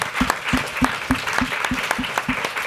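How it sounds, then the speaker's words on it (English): Audience applause at the close of an evening talk event, a dense, steady clatter of many hands clapping together, fairly close and sustained throughout with no voices over it. "please join me in giving a big round of applause to our distinguished speakers"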